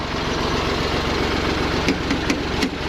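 A small 35 hp diesel tractor engine idles in a steady low chugging rhythm, close and constant, with a few faint clunks near the end as it is shifted into gear.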